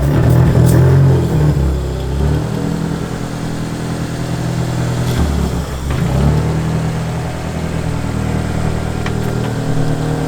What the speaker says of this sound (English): we're going to take it for a little bit of a test drive because it's actually not that loud